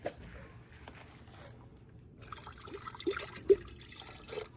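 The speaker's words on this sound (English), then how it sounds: "So let's get some water in here." Water poured into a lab vessel holding metallic silver and silver nitrate crystals from gold refining, a faint trickle and splash with a few brief sharper drips, quiet and without talk.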